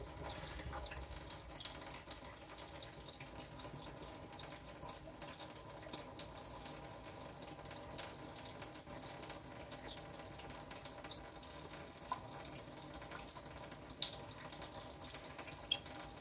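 Water from a tap keeps running and splashing while a honing stone for a straight razor is rinsed, a faint, continuous trickle with no talk.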